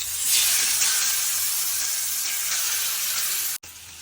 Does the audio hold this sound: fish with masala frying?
yes